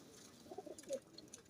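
A pigeon coos softly once or twice, faint and brief against a quiet background.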